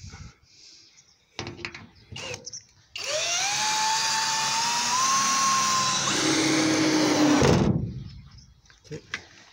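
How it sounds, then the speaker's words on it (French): A power screwdriver drives a screw through a cube fitting into an aluminium trailer frame, giving one sustained whirring run that rises in pitch and grinds as the screw seats. It is framed by handling clatter and a person talking. "Et après on visse le cube."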